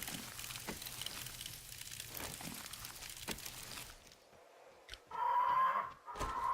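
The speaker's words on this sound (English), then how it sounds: "Oh, I hear you, bird." A bird clucks in the 7 Days to Die game, heard as brief calls at about five and six seconds. Before that comes a stretch of steady game ambience with scattered knocks.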